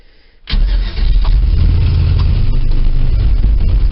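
A 1972 Chevy truck engine cranks and catches after a brief quiet moment, then settles into a loud, steady, rumbling idle that continues to the end.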